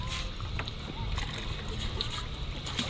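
Soft splashing and sloshing of people bathing in a shallow, clear river, a steady watery wash heard faintly with voices murmuring over it.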